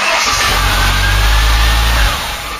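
Ford Cortina Mk3 engine running with a squealing power steering pump, a loud close steady rumble with a thin whine over it, easing down near the end.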